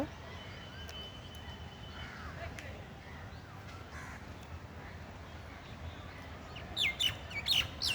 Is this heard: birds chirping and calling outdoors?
yes